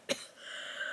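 One short, soft cough from a person indoors, a single quick burst followed by quiet room tone.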